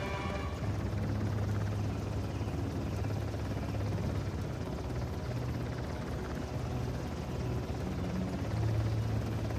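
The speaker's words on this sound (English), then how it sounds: "Wait for the helicopter to move" Helicopter hovering in Uncharted: The Lost Legacy, a constant rotor and engine drone with a low thrumming pulse, steady and fairly near throughout, no voices.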